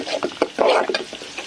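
Taro leaves with ginger paste being stir-fried in oil in a pan: quick, close scraping and stirring strokes over a soft frying sizzle, loud and without speech.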